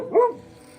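A dog in Bolivia gives a single short, close bark that rises and falls, then quiet.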